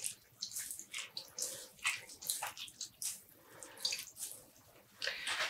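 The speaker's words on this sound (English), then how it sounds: "I'm just going to squeeze out" Wet dyed yarn wrung out by hand over water, giving repeated close splashes and trickles in uneven bursts, faint and alone.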